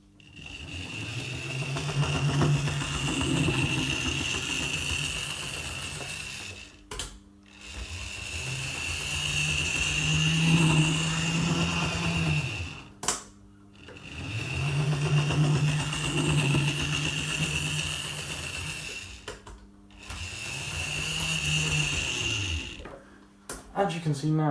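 A Bachmann J72 model steam locomotive running on a model railway track and taking corners, a whirring motor hum with a high whine that swells and fades over repeated laps, broken by clicks at rail joints.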